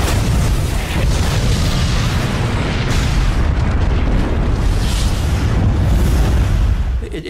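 A massive explosion, as of the battlecruiser Hood blowing apart at sea, fills the sound with a loud, sustained roaring rumble of deep booms and crackle that fades slightly at the end.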